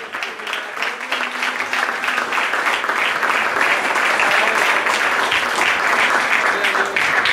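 A church congregation claps hands loudly and continuously during a worship service, a dense, sustained wash of applause that holds steady throughout, with faint voices mixed underneath.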